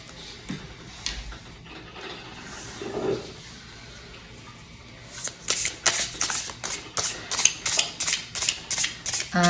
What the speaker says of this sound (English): I will do a good hard shuffle.